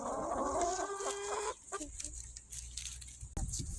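Backyard hens cluck busily while pecking at food scraps, a short burst of close, loud clucking that thins into scattered softer sounds and small knocks.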